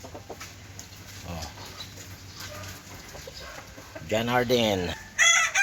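A rooster crows loudly nearby on a rainy day with a long, rising-and-falling call, preceded by softer clucking and some brief speech.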